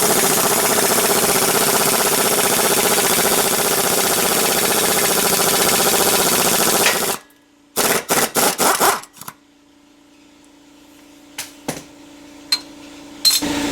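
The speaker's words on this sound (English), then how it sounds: "Once you hear the ball joint pop off from the lower control arm" An air hammer pounds continuously on the front suspension of a Honda Civic to separate the ball joint from the lower control arm, then stops, followed by a few sharp metallic knocks and clanks in a quiet garage.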